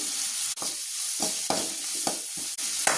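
Masala sautéing in a pan for a tapioca sabzi, a continuous close sizzle with several sharp scrapes of a spoon stirring, and no voices.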